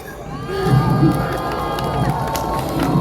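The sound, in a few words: rally crowd applauding and cheering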